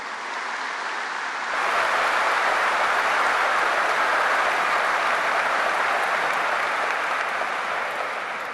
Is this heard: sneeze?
no